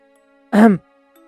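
A single short, voiced throat-clearing grunt, close and distinct, surrounded by near silence.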